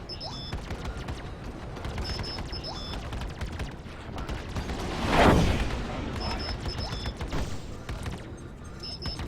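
Spaceship hull and shields taking gunfire in the Star Citizen space game, with a Gladius fighter in combat. A dense, steady barrage of impacts and mechanical rumble swells into a louder hit midway, with game voice cues over it.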